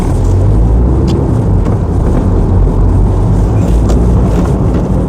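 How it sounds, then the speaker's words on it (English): A Mk3 Volkswagen Golf diesel estate drives along with a loud, steady low engine drone and road rumble, wind buffeting the microphone throughout, no voices. "Taking the Mk3 Golf diesel for a little drive"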